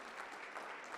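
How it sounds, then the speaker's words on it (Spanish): A congregation claps during a Sunday church service, a steady, faint wash of applause that holds even throughout the short moment with no single claps standing out. "Un aplauso, por favor, que el Señor les bendiga."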